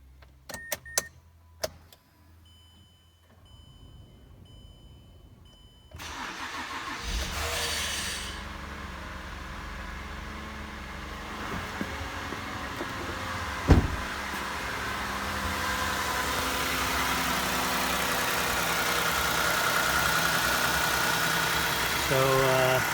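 Mazda CX-9 3.5L V6 cranked after water pump and timing chain repair: a few clicks and quiet near-silence, then the engine starts and settles into a steady idle rumble, with a brief knock partway through.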